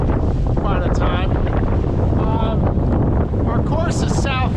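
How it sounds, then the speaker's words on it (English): Gusty wind at sea in the Gulf Stream, blowing around 20 knots on a sailboat under self-steering, roars loudly and continuously across the microphone, with faint creaks and rigging sounds rising briefly above the rush. "Wind will drop down to 10 knots, and then now it's gusting in again."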